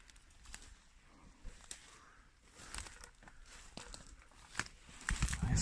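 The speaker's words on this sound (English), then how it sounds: "All that noise you can hear is the slates that have fallen off the roof over the years that we're breaking." Fallen roof slates crack and crunch underfoot inside an old, derelict house, heard as faint, scattered crackles and scrapes with uneven footsteps that grow louder toward the end.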